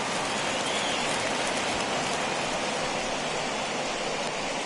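Steady, dense rain falls without pause through a baseball game in MLB The Show 21, a Cubs–Dodgers playoff matchup, making an even, hissing wash of drops with no voices over it.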